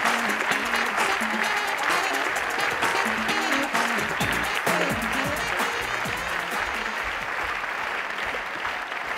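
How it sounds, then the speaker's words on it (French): Sustained, dense applause from an audience welcoming a performer onto a comedy stage, loud and steady throughout with music playing underneath and some scattered voices. "Je vous demande d'accueillir avec beaucoup d'ovation"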